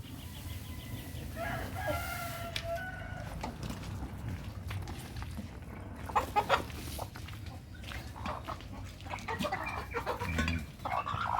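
Chickens cluck and a rooster crows faintly amid a busy outdoor farmyard at early morning, with scattered soft bird calls and no talking.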